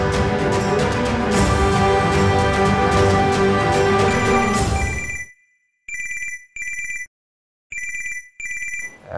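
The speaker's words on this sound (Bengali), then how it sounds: "এত রাত্রিরে আহিরি আবার ফোন করছে কেন?" A telephone ringing at night, first under a loud swell of dramatic music, then alone in a series of repeated bright electronic rings with short silent gaps between them.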